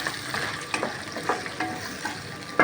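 Steady sizzling of eggplant frying in a pan, with scattered clinks and scrapes of stirring and a sharper clatter near the end.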